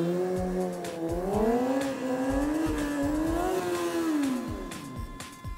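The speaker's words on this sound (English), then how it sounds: "you're going to be able to hear the RPMs race up as he does" A stunt motorcycle revs hard while the rider gives it gas and pops the clutch into a wheelie, the engine pitch climbing and wavering steadily over a rough rumble, loud and close throughout.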